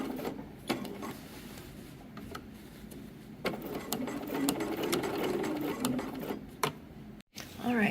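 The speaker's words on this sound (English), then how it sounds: "now we're ready to head to the sewing machine and top stitch it in" A domestic sewing machine top stitches dress fabric, a steady close mechanical whir with clicking gear ticks, broken by brief pauses and a short stop near the end.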